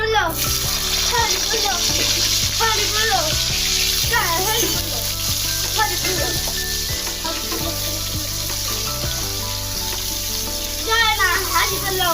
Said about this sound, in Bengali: কাঁঠাল আর আলুটা একদম ভেজে নিলাম আগে